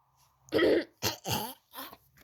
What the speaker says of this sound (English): Coughing. I had a gag in my throat.